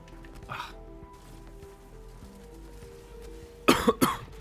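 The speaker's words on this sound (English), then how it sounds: "I've been coughing today." A person coughs several times in quick bursts, close and fairly loud, with a short earlier throat-clearing sound against quiet room background.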